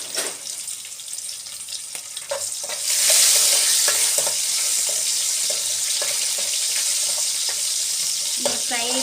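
Dried red chillies sizzle and fry in a pan of oil, a steady hissing crackle that swells louder partway through, with occasional stirring clinks and scrapes.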